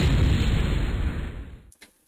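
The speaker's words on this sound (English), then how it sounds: "here's the air gun" An air gun fires in the video game MechQuest, a single loud, broad blast that fills the first second and a half and then decays, followed by a brief faint tail with no talking.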